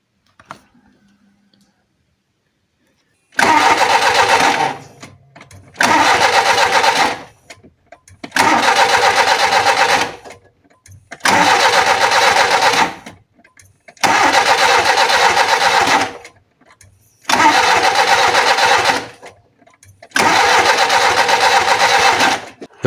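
Alfa Romeo 33 1.5 ie engine cranked by the starter in seven loud repeated bursts of a few seconds each, separated by short silences, after a faint brief sound at the start.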